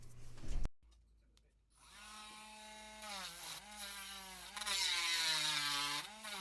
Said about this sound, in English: You can use a pair of side cutters, but I already have my Dremel ready to go.